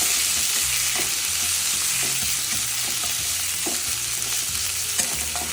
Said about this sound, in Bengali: এবার আমি আদা, মৌরি, কাঁচা লঙ্কা বাটাটা দিয়ে দিলাম। ভালো করে কষাবো।